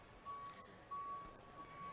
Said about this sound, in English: I'm being serenaded in the background by loud beeping